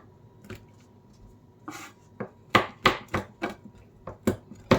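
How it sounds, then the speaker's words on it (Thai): A knife chops on a board in uneven strokes, starting sparse then settling into a quicker run of sharp, close thuds. "เดี๋ยวนี้ก็จะหั่นไปเรื่อยๆจนเสร็จนะคะ"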